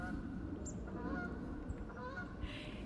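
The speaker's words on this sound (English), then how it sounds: "any kind of rain, the geese are coming in" A flock of geese honking in March near a sloped garden, repeated overlapping calls at a moderate distance over steady outdoor background noise.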